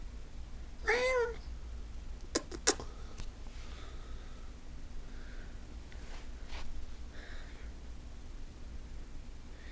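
A small indoor cat gives one clear, drawn-out meow near the start, followed by a few sharp clicks and faint softer sounds against quiet room tone.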